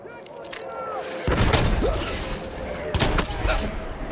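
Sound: gunfire in the video game Battlefield 1

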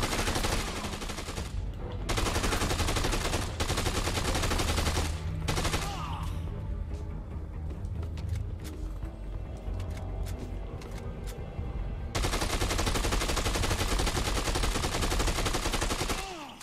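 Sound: gunfire in the video game Dead Rising 2: Off The Record

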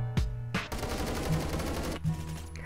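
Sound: gunfire in video game Roblox Phantom Forces

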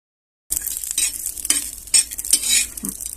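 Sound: red garlic roasting in a pan for spice mix

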